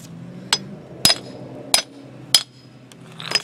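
Sharp metallic hammer taps striking a socket to knock out a wheel bearing race on a 2004 pop-up camper, five blows spaced about half a second apart, close and clear with a bright ringing edge.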